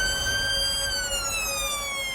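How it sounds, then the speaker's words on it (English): An ambulance siren sounds loud and steady throughout, its tone sliding slowly downward as it passes close by on a main road, with no talk. "The ambulance trying to get through"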